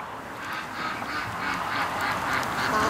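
A dense chorus of ducks in a pen quacks continuously at a moderate distance, a steady blended clamor without clear individual calls or speech.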